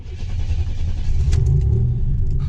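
A 1987 Buick Regal T Turbo with a digital dash swap cranks and fires up, its engine catching and rising to a loud, close, steady rumble with no talking.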